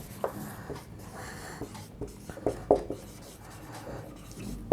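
Chalk or marker scratches out words on a board during a NEET biology lesson on breathing and gas exchange, in short separate strokes and taps that are quiet and close, with pauses between them.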